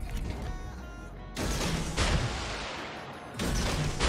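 Warship guns firing shells in World of Warships make heavy, booming salvos, with loud broad blasts at about one second, two seconds and three and a half seconds, each fading into a deep rumble.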